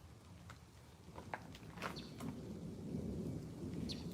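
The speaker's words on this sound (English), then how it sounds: "Hear that thunder?" Thunder from an Arizona thunderstorm rolls low and deep under a steady background of rain, building gradually with a few crackling drops nearby and no voices.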